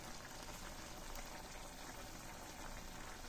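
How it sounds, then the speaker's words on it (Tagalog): Steady, dense bubbling of salted water boiling in a pot while cooking papaya, a continuous close hiss and gurgle with no talking. "Kumukulo na mga boss"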